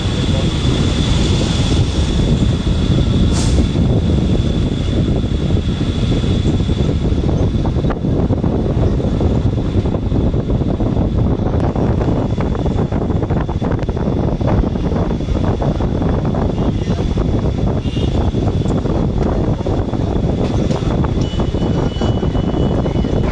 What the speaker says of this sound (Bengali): আগরপাড়া থেকে আমাদের ট্রেন ছেড়ে দিল